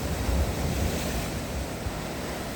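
Strong waves break and roll onto a rocky winter beach at Woodbine Beach in Toronto, a loud continuous surf roar mixed with heavy wind rumble, with no voices.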